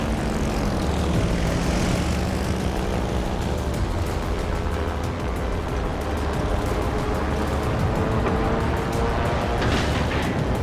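Fighter plane engine roaring steadily in World of Warships: Legends, a loud, continuous propeller drone with a slowly shifting pitch and a rising whoosh near the end, no voices.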